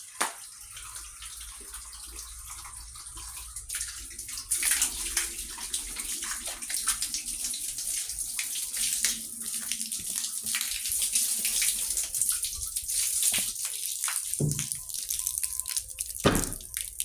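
Water runs steadily from a tap into a container in a rural bathroom, a continuous splashing rush with a brighter hiss throughout and a couple of sharper knocks near the end.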